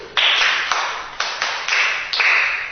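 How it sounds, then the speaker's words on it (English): Hands clapping in a classroom: about seven sharp claps in an uneven, slightly accelerating burst, close and loud, with no talking. "Clap for yourself."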